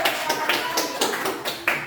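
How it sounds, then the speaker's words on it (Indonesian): A small group claps for a student team during a classroom presentation. About seven separate claps or taps sound in a loose, uneven rhythm, close and moderately loud, with no speech. "Oke, tepuk tangan untuk kelompok kupu-kupu."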